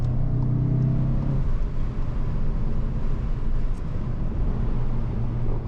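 A 2021 Volkswagen GTI's exhaust drones steadily as it accelerates on the Autobahn with the sunroof open, a continuous low rumble from inside the cabin that carries a deeper tone at first.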